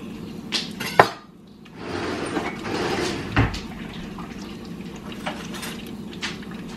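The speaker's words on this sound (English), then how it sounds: "we're gonna give that a stir" Garlic stirred in hot oil in a pan, with a sharp utensil clink against the pan near the start and then a steady soft sizzle and scraping throughout, close and alone without talk.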